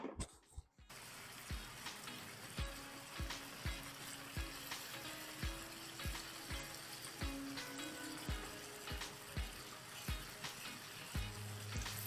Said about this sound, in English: I'm gonna add like about 2 tablespoons of water.